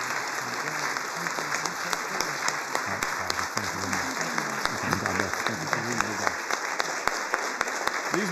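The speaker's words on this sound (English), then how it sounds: "Let's give them a round of applause." Congregation applauding during a traditional church service honoring Army service members, steady sustained clapping from a full room lasting several seconds, even and fairly loud throughout, with a few voices mixed in.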